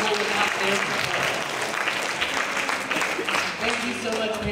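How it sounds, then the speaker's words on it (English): Parents in the audience at a school holiday band concert clap steadily in a dense, sustained wave of applause, with a few voices mixed in throughout. "give them a round of applause"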